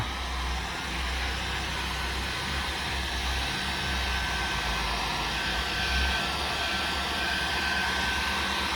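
A loud, steady hair dryer roars without letup, blasting heat to flash-dry fresh paint on Nike Air Force 1 sneakers being customized, its broadband whoosh unbroken throughout.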